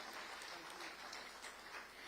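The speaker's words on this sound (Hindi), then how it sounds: "एक बार जोरदार तालियां हो जाए।" A crowd claps in a continuous, even wash at a regional conference inauguration in a large hall, fairly faint and with no voices over it.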